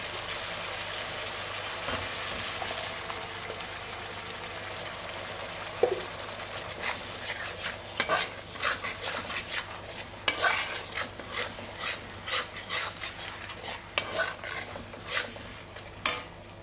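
Cashew paste is stirred and fried in a pan, a spoon scraping and clinking against the metal in uneven bursts over a soft background sizzle, growing busier toward the end.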